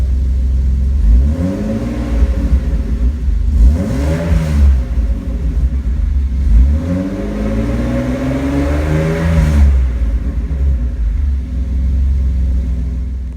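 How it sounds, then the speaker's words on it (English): A 1987 BMW 325e with an M50 engine revs repeatedly, rising and falling in several strong pulls over a steady idling rumble, loud and close with no talking. "This car sounds amazing."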